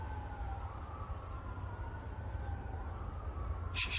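A distant ambulance siren wails faintly, rising and falling over a steady low background rumble.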